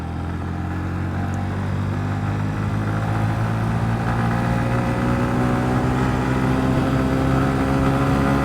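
A Honda CB125F motorcycle on a gravel road runs with a steady, loud engine drone and wind rush after a missed gear shift, its revs holding high throughout.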